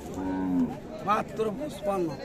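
At Raniganj cattle market in Dinajpur, a Friesian cow lets out a short, fairly quiet moo followed by a few more lowing calls, with faint chatter of people nearby.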